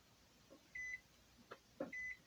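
A kitchen timer beeping on a quiet counter, two short, thin electronic tones about a second apart, close and clear with slight handling noise between.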